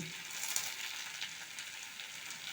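Vegetables seasoned with salt and turmeric stir-fry in a pan, a soft, steady sizzle close by with light stirring scrapes and no voices.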